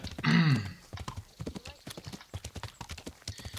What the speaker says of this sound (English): Let's get on the horse now.